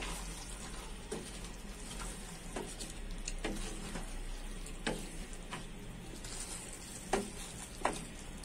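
Cauliflower florets and potatoes frying in a pan, a faint steady sizzle with soft, scattered scrapes and clicks of a spoon stirring the vegetables.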